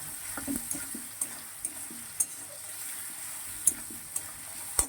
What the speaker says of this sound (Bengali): এইভাবে এবারে গ্যাসটা একটু কম করে দিয়ে ঢেকে দিলে মশলা কষানো হয়ে যাবে